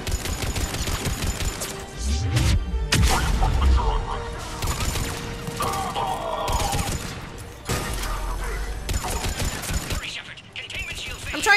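Gunfire attacking a pod in Mass Effect 3, with dense bursts of automatic weapon fire, deep booms and mechanical clatter over game music and voices.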